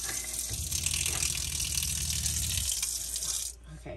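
Tap water runs steadily into a sink at a campsite in Shenandoah National Park, a close hissing gush with a low pump-like drone beneath, then the flow cuts off abruptly near the end.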